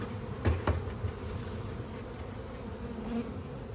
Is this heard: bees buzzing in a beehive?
yes